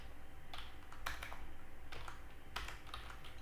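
Typing C code on a computer keyboard: close, steady clicking keystrokes with a few sharper accented presses, over a faint constant background hum.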